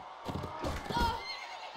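A horse in the video game Mount and Blade lets out a short whinny during a battle, brief and mid-distance, mixed with muffled thumps and game noise.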